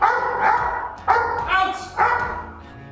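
A protection dog barks three times on its handler's command. Each bark is loud, close and deep, with short pauses between them and no other voices.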